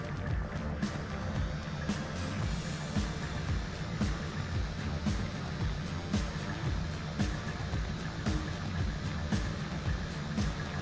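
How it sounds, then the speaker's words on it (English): A vacuum pump running, slowed down, as a steady low droning hum with a repeating rhythmic pulse and scattered faint clicks, continuous throughout. "The noise you hear is the vacuum pump slowed down,"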